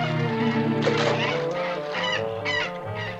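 Geese honk loudly and repeatedly nearby, harsh overlapping calls with a few higher squawks mixed in.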